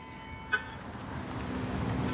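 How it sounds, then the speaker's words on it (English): A 2026 Tesla gives one short, sharp horn chirp as it locks, heard close by over steady outdoor background noise, with no talking. "the horn honks to let you know, and the mirrors are folded in"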